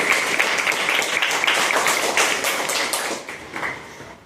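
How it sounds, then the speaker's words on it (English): Dense, steady clapping from a crowd at an Indian gathering honouring an Olympic bronze-medal shooter. It runs at an even, fairly loud level for about four seconds, with sharp individual claps sticking out near the front and easing slightly at the end. "So let's have a big round of applause."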